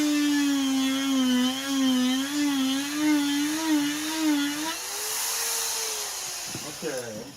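A rotary tool fitted with a burr whines loudly as it carves a log, its high pitch wavering up and down under load for several seconds before spinning down and stopping, followed by faint handling noise.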